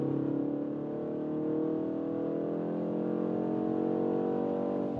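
A BMW M135 with 300 horsepower accelerates in D sport mode, its engine droning steadily with rising harmonic tones as revs climb, heard from inside the car, moderately loud and continuous, with no talking.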